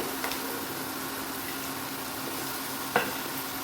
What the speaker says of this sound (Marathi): मसाल्यामध्ये ही तोंडली परतून घेते